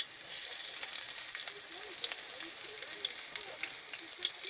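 Garlic and onion sautéing in oil in a pan for a kandinga dish, a steady close hiss and crackle of frying that runs throughout with small pops.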